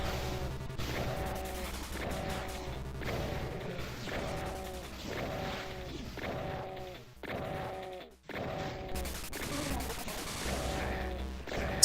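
Rapid, repeated gunfire in the classic shooter DOOM, steady bursts over a dense in-game sound bed with pounding low booms, near and loud, with a brief dip near the end.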